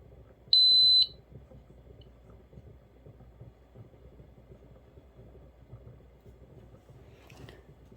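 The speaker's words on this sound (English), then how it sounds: "the beep and the countdown of 10 minutes" A single sharp electronic beep sounds from a pressure canner processing carrots as its countdown starts, followed by a low, steady background hum.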